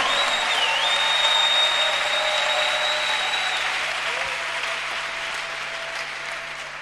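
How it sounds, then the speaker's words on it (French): A church congregation applauds loudly and steadily, a dense sustained wash of clapping filling the room from start to end, with a faint tone and some voices mixed in beneath it. "Acclamons Jésus."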